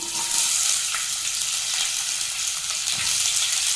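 Onions hiss and sizzle steadily in hot oil with mustard seeds and cumin, a close, continuous frying sound with faint stirring taps and no talking.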